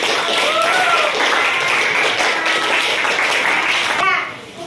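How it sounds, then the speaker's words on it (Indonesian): Children clapping in applause in an Indonesian classroom, a dense steady patter of many small hands with kids' voices chattering over it, fading out at the end. "Berikan tepuk tangan."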